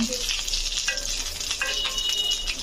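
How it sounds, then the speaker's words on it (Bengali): Two dried chillies fry in hot oil in a pan, giving a steady close sizzle with light stirring scrapes and occasional clinks throughout. "এখানে দুটো শুকনো মরিচ ভালোভাবে এখানে ভেজে ফেলছি"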